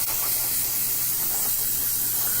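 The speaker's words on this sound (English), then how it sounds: "The same rule when you're applying paint from a spray can." Aerosol spray can misting matte varnish over acrylic paint, a steady close hiss that runs unbroken for a couple of seconds with no talking.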